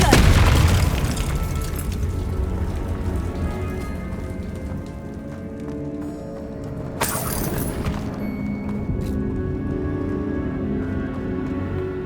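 A Confringo explosive spell from Hogwarts Legacy bursts with a deep boom at the start, leaving a dense crackling, rain-like fizz that lingers, with a sharp second crack about seven seconds in.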